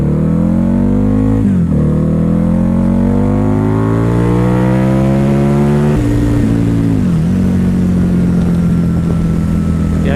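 A Harley-Davidson V-Rod Night Rod Special motorcycle, its V-twin revving and pulling hard through rising gears on a rural road, loud and close, with a shift break partway through and a steady, strong engine drone.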